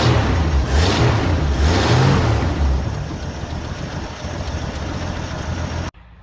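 A 1963 Mercury Comet engine running after an engine and transmission swap, a loud close rumbling idle with a few rises in revs early on, settling to a steady run before cutting off abruptly.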